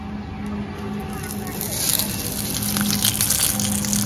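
Banana-blossom and prawn paturi parcels go into a hot kadai with a little oil, giving a steady, loud hiss and sizzle with no pauses.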